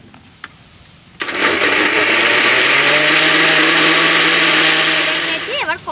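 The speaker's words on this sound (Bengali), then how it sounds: "এবার আমি মিক্সিতে ঘুরিয়ে নেব আর খুব সহজে এটা বাটা হয়ে যাবে।" An electric mixer grinder whirs loudly and steadily as it grinds drumstick leaves with a few drops of water into a paste, starting abruptly after a quiet moment and running without a break.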